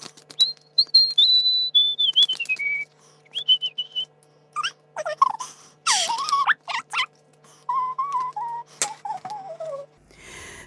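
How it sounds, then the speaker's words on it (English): A person whistles a wandering melody while shuffling a DIY tarot deck, the tune rising and falling in phrases broken by brief pauses and soft card shuffling, close and fairly loud. "Let me just carry on through this shuffle and whistle as I go."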